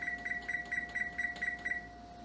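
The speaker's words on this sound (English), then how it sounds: "I'm going to set my timer for 15 minutes so I can turn it" A kitchen timer beeps steadily in about eight evenly spaced, fairly faint electronic tones while challah bakes, with a low steady hum underneath and no talking.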